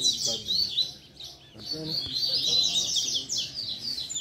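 A coleiro, the double-collared seedeater, sings bright, rapid high-pitched warbling phrases close by, with brief pauses, while someone speaks softly underneath in places.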